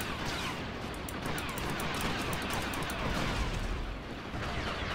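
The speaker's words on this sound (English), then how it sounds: "The gun." Rapid gunfire in Star Wars Battlefront 2 on a 2005 conversion-pack Alderaan map from the Kotor era, a dense, continuous barrage of blaster shots at steady loudness throughout, with no talk.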